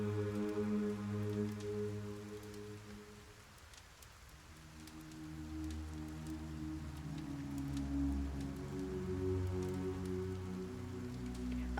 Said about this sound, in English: Take the ambient noise of the rain here.